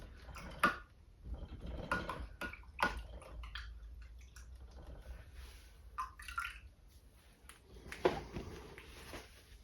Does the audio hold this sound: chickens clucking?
no